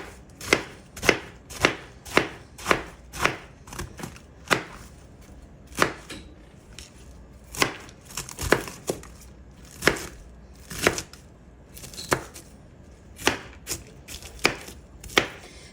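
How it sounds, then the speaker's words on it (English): Iceberg lettuce chopped on a board with a sharp Pampered Chef chef's knife, a run of crisp, evenly spaced cutting thuds up close, steady at first and then a little irregular, with no voices. "go ahead and cut up my iceberg lettuce"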